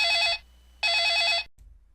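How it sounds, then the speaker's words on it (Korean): A telephone bell rings twice in short, loud bursts with a pause between, each ring a rapid trill, then cuts off abruptly. "저녁에 급히 전화 한 통이 걸려왔습니다"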